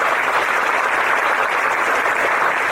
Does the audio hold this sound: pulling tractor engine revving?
no